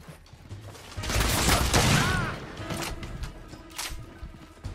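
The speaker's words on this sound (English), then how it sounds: "Shooting down below" Gunfire from below in The Order: 1886, a burst of rapid distant shots that swells into a dense volley, then fades to scattered cracks and mechanical clicks.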